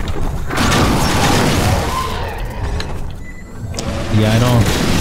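Grenade blast in Half-Life 2 Episode 2, a dense low boom and debris rumble filling the opening seconds, then fading under scattered mechanical clatter and game sounds.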